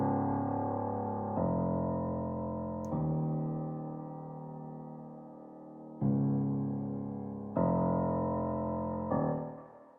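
Low, sustained piano chords of a music production bass layer, processed with reverb, compression and EQ, ring out one after another, each struck and left to decay slowly, with no voices.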